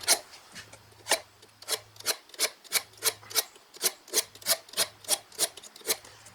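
A carbon steel blade is stroked against a sharpening tool in a quick, steady rhythm of about two rasping strokes per second, each a close, crisp scrape, with a faint low hum underneath.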